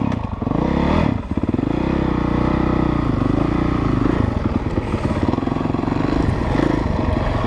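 A 2017 Honda CRF 450 dirt bike at a raceway roars loudly and continuously while ridden, its engine note rising and falling with throttle changes and some clattering, recorded close from the rider's position.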